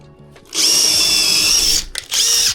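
A power drill whines at full speed boring into brick for a TV wall mount, one long steady bite, a brief pause, then a second burst, loud and close.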